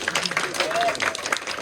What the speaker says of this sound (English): another round of applause for Anthony